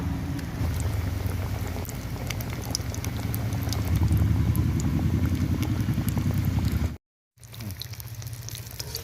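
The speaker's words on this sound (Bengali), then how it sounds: "এখন এই নিমকি আমি তেলের ভিতরে দিয়ে ভেজে নেব হালকা আঁচতে ভেজে নেব" Nimki, a flaky savory snack, frying in hot oil over low heat, giving a steady dense bubbling sizzle that runs continuously and loud, breaking off briefly near the end before resuming.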